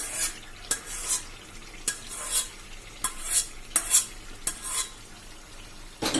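Mashed pav bhaji vegetables are stirred in a pan with a spoon, giving about seven distinct scraping strokes at an irregular rhythm over a soft steady sizzle, close and alone.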